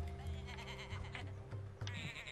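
Sheep in the video game Tak and the Power of Juju let out a few wavering bleats in quick succession, close and fairly loud over a faint background of game music.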